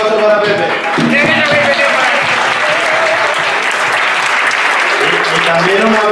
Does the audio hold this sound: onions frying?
no